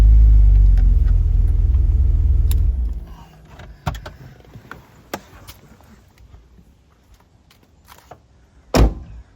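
A BMW E46 engine with a vacuum leak runs loud and rough with a heavy low rumble, then cuts out abruptly. Scattered clicks and small knocks follow, and one sharp pop lands near the end.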